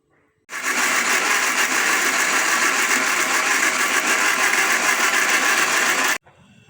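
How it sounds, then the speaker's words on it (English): A kitchen blender blending dates with water for homemade soya milk, a loud, steady whirring motor that starts abruptly, runs for nearly six seconds close by, then stops. "You can blend the Dabino in the blender."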